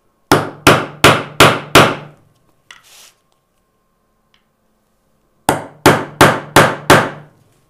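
A hammer strikes a hard steel nail set to sink a nail head into wood: two bursts of five sharp, evenly spaced, loud blows, separated by a few seconds of near silence with a faint clink.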